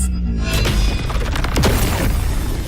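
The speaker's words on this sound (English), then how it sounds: "Cluster cannon ready." Cluster cannon firing in the video game Wuthering Waves, a dense run of booming blasts and crackling impacts, loud and continuous with no talk.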